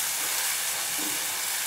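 Tomato and onion paste frying in hot oil for a shallot curry, giving a steady, close broadband sizzle and hiss that runs unbroken with no voices.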